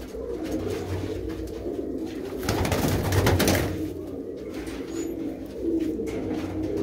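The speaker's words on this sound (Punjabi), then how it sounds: "ਗੱਲ ਕਰੀਏ ਕਬੂਤਰਾਂ ਦੀ" Pigeons of a prized racing breed cooing steadily at close range, a continuous rolling murmur that swells in the middle, with no speech.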